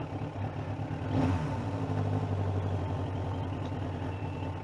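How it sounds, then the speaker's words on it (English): A 1993 Suzuki Katana 750 (GSX750FP) motorcycle idles while warming up after the choke is turned off, a steady close engine rumble with a faint clattering texture and a brief rise in revs near the start. "The engine needs to warm up a little more"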